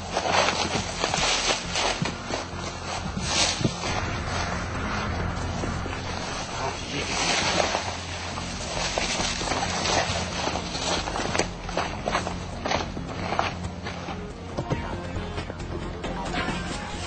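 Heavy rustling and trampling through forest undergrowth, a wild boar crashing and running through brush at close range, with scattered twig snaps and no voices.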